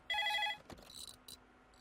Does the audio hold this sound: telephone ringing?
yes